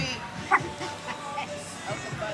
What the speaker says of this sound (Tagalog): Anong tinatahol-tahol mo, Toby-Tob?